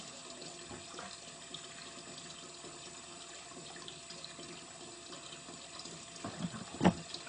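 A tap runs water into a bucket being filled with soda ash solution for tie-dye, a soft steady rush with a few louder splashes near the end.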